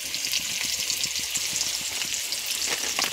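Spices fry in oil in a pan while being stirred, a continuous bright sizzle with soft rhythmic scraping taps underneath, close and fairly loud.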